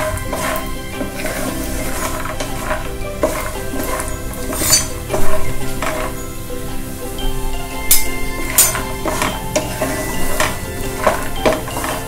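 Peanuts fried in a pan for Indori-style poha, with a steady sizzle under repeated metallic clinks and scrapes of a spoon stirring against the pan, fairly close and continuous with no talking.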